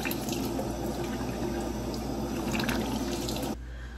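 Water runs steadily from a bathroom tap into a sink during face washing with cleanser, a loud close splashing rush that cuts lower near the end, with no talking.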